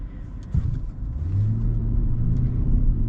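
Inside a 2024 Mercedes GLS 580 luxury SUV, a low, smooth engine rumble rises gently as the vehicle accelerates, with a faint shift, heard close and quiet with no voices.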